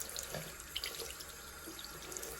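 A tap running into a sink while makeup brushes are washed, a steady faint splashing stream with small drips and clinks, quiet and continuous with no talk.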